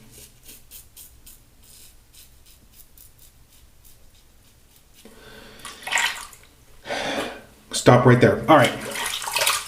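Tap water runs while lather from a Valobra shave stick is rinsed off after a shave with a Wilkinson Sword Classic razor, the splashing rising loud in bursts after a quieter stretch, with brief talk over it.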